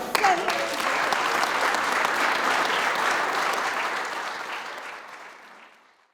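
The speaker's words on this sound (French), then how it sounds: "On peut les applaudir" A crowd at a charity bike event gives a full round of applause that starts loud and dense, holds steady, then gradually fades to silence over about six seconds.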